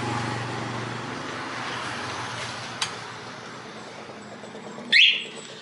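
A Honda MSX 125 fitted with a Cool alarm, locked twice: a faint click, then a short, sharp electronic chirp from close by over quiet background road hum.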